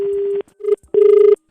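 Telephone keypad dialing tones during a prank call, heard as a long steady tone, then a short beep and a longer buzzing tone, loud and close with no talk.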